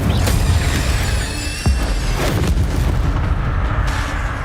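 In the video game Hogwarts Legacy, the Incendio fire spell is cast, and a loud booming whoosh with a deep thump is layered over dense, continuous game effects and rumbling.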